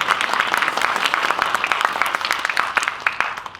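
Brief audience applause at a Korean independence-activist award ceremony, a dense patter of hands with a few sharper claps standing out, moderately loud with no talk.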